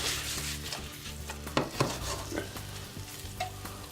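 Corned beef fries in a pan and is stirred, a steady sizzle with repeated scraping utensil strokes and occasional light clinks, close and continuous.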